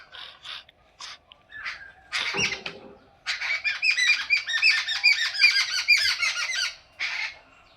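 Several birds call from a tree, a mix of chirps and harsh squawks: scattered short calls at first, then a dense, busy chorus of overlapping chatter that fades to a last burst.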